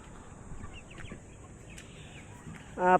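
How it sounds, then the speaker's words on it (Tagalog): A brief goose honk close by at the very end, after quiet background noise and faint rustling. "Ito si Gansa ko mga kaubayan."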